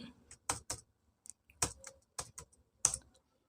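Scattered bursts of keystrokes on a computer keyboard, quiet and close, with irregular clusters of clicks separated by short pauses.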